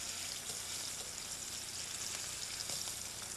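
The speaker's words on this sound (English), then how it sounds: "you saute the other 2 steaks" Steaks sauteing in a chafing dish pan, giving a steady, dense sizzle and hiss that runs unbroken and fairly close throughout, with no talking over it.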